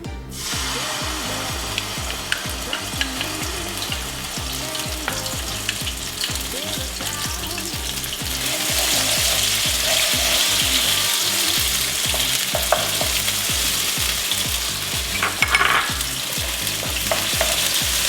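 Red pepper paste fries loudly in a hot pan, with a dense crackling sizzle and rhythmic scraping from steady stirring that grows brighter partway through, close up and without talk.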